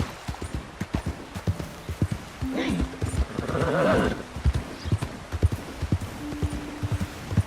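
Horse hooves clip-clop steadily across ground in the Red Dead video game, near and rhythmic, with a horse whinnying midway and game character voices talking over parts of it.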